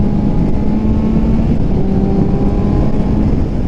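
Engine of a 2018 Suzuki GSX-S750 motorcycle running steadily and loud, a sustained low drone with a faint rising tone, close by and alone for about four seconds.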